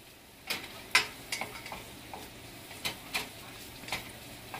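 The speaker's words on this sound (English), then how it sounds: "I'll saute that just for a little bit, like that. And I like it in butter." Seafood ingredients for caldo de pescado con camarón being sautéed in butter in a pan, a quiet low sizzle under a series of irregular spoon taps and clinks, close and soft, with no talking.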